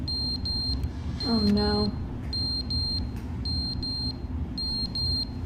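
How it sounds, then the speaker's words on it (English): A smoke alarm in the video game The Stanley Parable chirps in repeated short high beeps over steady game ambience, while a person briefly speaks and a low descending tone sweeps through the middle. "Is it the smoke alarm?"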